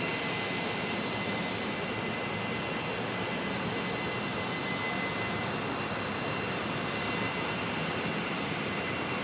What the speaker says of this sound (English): Qantas 126 has just turned on to a long final